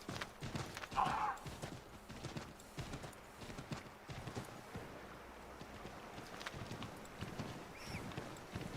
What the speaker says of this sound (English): I wonder how the horse fares in the really deep snow.